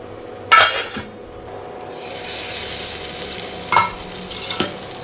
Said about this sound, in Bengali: আগে মশলাটা একটু কিছুক্ষণ কষিয়ে নেব